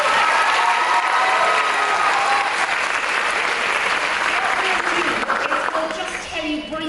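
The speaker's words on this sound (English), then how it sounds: "So, big round of applause." Sustained applause from an audience at a talk event in Bangkok, a loud, dense wash of clapping that holds steady and thins slightly toward the end.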